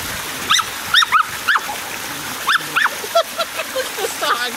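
Terriers perched on a waterfall let out repeated high, rising whimpers and sharp yips in short bursts, close and loud, over the rush of water and occasional splashing.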